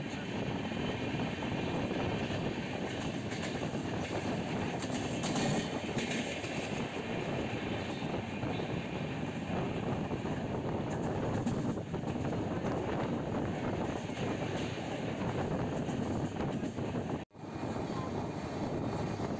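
An Indian passenger train on the Itarsi to Veraval route rumbles steadily along the rails, a continuous loud roar with wind noise heard from on board, with no pauses.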